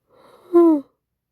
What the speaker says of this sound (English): Sorry about the yawn.